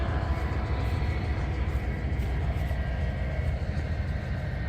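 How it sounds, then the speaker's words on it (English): A train rolls slowly past at close range, giving a steady, loud rumble of wheels on rails with no clear break for the whole stretch and no talk over it. "The train is moving!"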